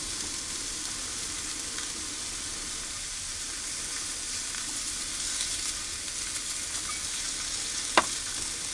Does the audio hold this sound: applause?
no